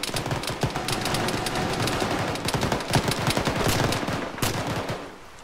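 Rapid bursts of gunfire in the military video game Arma, played by ShackTac, with sharp repeated shots and fast automatic volleys close by, getting louder toward the end before cutting off.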